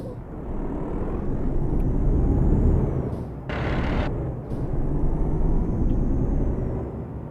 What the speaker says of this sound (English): Let's get the truck out of here.